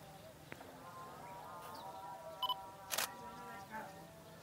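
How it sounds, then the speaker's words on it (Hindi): A Nikon D5600 DSLR with an 85mm lens fires its shutter in a quiet room, a couple of brief sharp clicks standing out over faint background hum and soft voices. "इस सेटिंग्स पे हम फ़ोटो क्लिक करते हैं"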